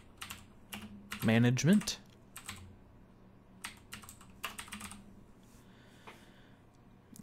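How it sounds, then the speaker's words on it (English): Keys clatter on a computer keyboard while someone searches the Windows Start menu: a scattered run of crisp taps spread over several seconds, close by, with a brief stretch of speech early on. "So, you go to your Start menu and type in Disk"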